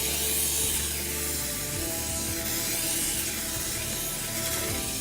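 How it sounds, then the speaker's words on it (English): Non-stick cooking spray hisses onto a cake pan in one continuous, loud, close-up spray lasting several seconds, with no voices. "you need to get some non-stick cooking spray, and you need to spray the"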